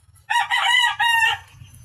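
A White Kelso rooster crows once, a loud, close, drawn-out call with a short break in the middle, over a faint low background rumble.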